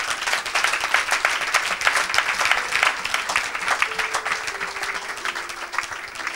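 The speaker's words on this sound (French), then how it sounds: "Acclamez pour Jésus." Church congregation applauding for Jesus during a Sunday worship service, a steady dense wash of clapping lasting throughout, loud and close with a sustained tone faintly underneath.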